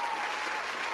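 A brief, dense burst of crowd applause with steady, even clapping lasting about a second, heard on its own.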